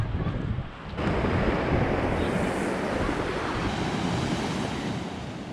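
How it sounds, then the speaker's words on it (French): Surf breaks and rushes over large pebbles and big stones on an island shore, a steady loud roar of churning water with wind buffeting the microphone throughout. "avec le ressac qu'il y a et les gros galets, les grosses pierres"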